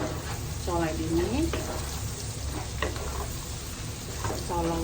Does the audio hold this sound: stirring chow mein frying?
yes